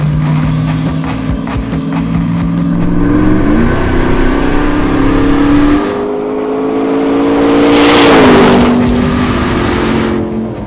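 A Hennessey Mammoth 6x6 RAM TRX with a Hellephant engine drives close by, its loud, deep engine note climbing in pitch, dropping at gear changes, and swelling again in a strong surge near the end.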